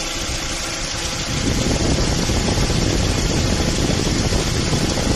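A steady, rushing whir of a Honda Accord's radiator cooling fan, switched on by the air conditioning, over a running engine, growing a bit louder partway through and holding constant, close by.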